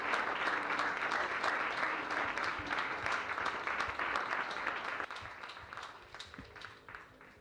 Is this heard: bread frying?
no